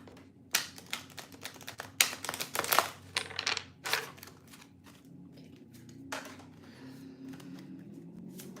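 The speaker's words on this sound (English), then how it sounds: "We can give this another shuffle." Tarot cards are shuffled close by in quick riffling bursts with sharp flicks, then taper off into quieter rustling.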